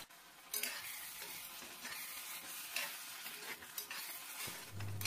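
Egg curry masala with tomato puree is stirred in a pan, a continuous soft sizzle with repeated scraping strokes of a spoon, fairly quiet and close, with nobody talking.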